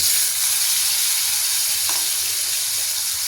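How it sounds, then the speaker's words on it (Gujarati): Cumin seeds and a pinch of asafoetida sizzle steadily in hot oil in a pan, a close, bright, constant crackling hiss for an Indian dry potato bhaji, with no voices. "આપણું તેલ ગરમ થઈ ગયું છે હવે તેમાં આપણે જીરું એડ કરીશું અને થોડી હિંગ એડ કરીશું"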